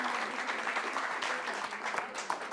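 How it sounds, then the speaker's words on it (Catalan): Studio audience applause on a Catalan television word-game show, a moderate, even patter of clapping that continues throughout, fairly soft and slightly distant. "Aplaudiment per la Momna,"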